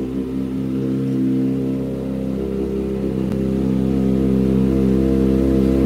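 Motorcycle engine held at a steady, loud, close-up idle that swells slightly without sharp revs, running continuously with no voices.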